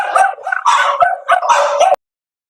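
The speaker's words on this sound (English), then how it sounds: "One of my dog sitting charges is very upset at something outside." A dog barks and yips in a rapid, agitated burst, loud and close, upset at something outside, before cutting off abruptly into silence.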